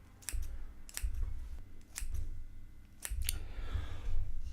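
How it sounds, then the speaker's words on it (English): Small scissors from a Bakewell Premium Compact set snip food into little pieces for a stir fry, giving repeated sharp close clicks in irregular bursts over a low background hum. "All right, let's cut these in little pieces."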